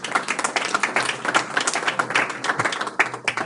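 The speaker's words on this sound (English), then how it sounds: "come on, you guys need to clap" An audience bursts into clapping at a talk by a California state senator, a dense, rhythmic patter of many hands that holds steady throughout.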